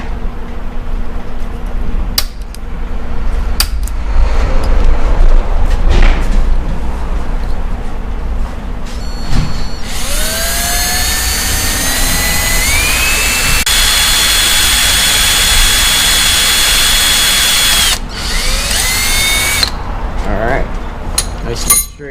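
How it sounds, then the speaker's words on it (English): A high-pitched power drill whines steadily for several seconds, rising and shifting in pitch as it bites through the side of a metal oil filter on a 2017 BMW S1000RR motorcycle, with a low machine hum underneath. "center punch a spot where we're going to drill in the side"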